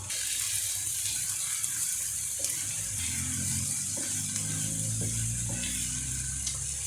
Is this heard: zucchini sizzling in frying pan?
yes